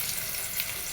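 Fish fry in a pan of hot oil, a dense, steady sizzle heard close up.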